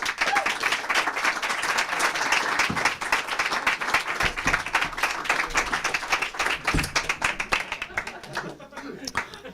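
Audience applause and clapping for the performer Sluk at a basement memorial show, a dense, steady roar of hands close by that tapers off toward the end, with scattered voices and chuckles mixed in.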